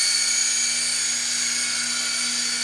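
A Syma S032G remote control helicopter flies indoors, its small motor and rotor making a steady, high-pitched whine with a constant low hum beneath, close and continuous throughout with no talk.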